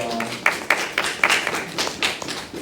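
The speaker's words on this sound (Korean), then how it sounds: "잘해서 박수 한번 주세요" A handful of sharp, separate hand claps ring out in an uneven rhythm for children at a white-belt taekwondo trial class in a dojang; the claps are close and clear, with no voices over them.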